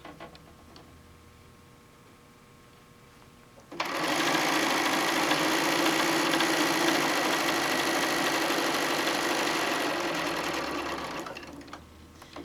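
A sewing machine chain-piecing quilt blocks starts after a quiet pause and runs steadily at high speed for about eight seconds, close and loud, before slowing and stopping.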